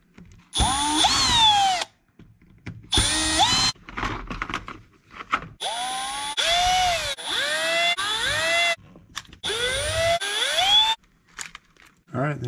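A power drill backs screws out of the front bumper of a Latrax Teton RC car in loud, close bursts of whirring, each lasting a second or two and rising and falling in pitch, separated by short gaps.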